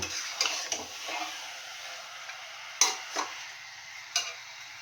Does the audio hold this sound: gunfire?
no